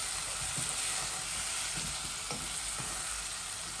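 Chili and spices fry in hot oil with a constant crackling sizzle, while a spatula scrapes and stirs the pan in several sharp, spaced strokes.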